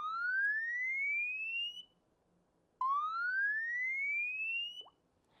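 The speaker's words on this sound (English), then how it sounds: "You have emergency alarm." A Samsung Galaxy S5 phone's emergency alarm wails in two loud electronic rising sweeps, each lasting almost two seconds with a short gap between them.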